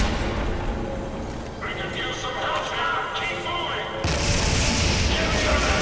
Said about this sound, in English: this whole place is exploding